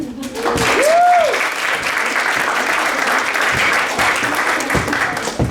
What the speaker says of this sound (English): Everyone, that's the banana clap.